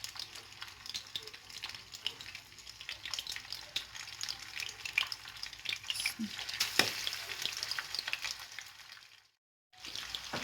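Fish sizzles and crackles steadily in a few spoonfuls of hot oil in a pan, a dense, fairly quiet frying hiss that cuts out briefly near the end.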